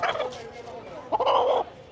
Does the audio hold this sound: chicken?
yes